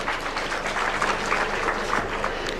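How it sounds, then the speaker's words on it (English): An outdoor crowd at a trade fair opening at Uhuru Gardens in Nairobi claps steadily, a dense patter of many hands with no voice over it. "let's clap for them."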